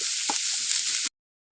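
Dalia with chopped green chilies and peas fries in a pan, a bright, dense sizzle with a few soft stirring scrapes, running about a second before cutting off abruptly into silence.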